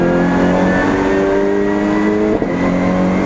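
A race car accelerates hard out of the hairpin at Donington circuit, its engine note loud and close, climbing steadily with a brief dip around a gear change before pulling on, with no voices over it.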